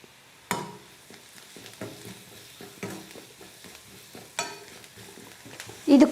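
Onions and masala sauté in a pan for a potato and egg snack, with a metal spoon scraping and stirring in repeated strokes over a low, steady sizzle and a louder clatter at the end.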